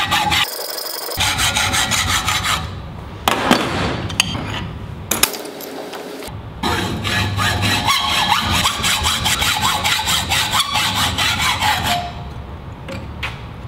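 Metal being cut with a hand saw for a high school metalwork can punch and bottle opener project: steady, loud, close rasping back-and-forth strokes, with two brief pauses between runs of cutting.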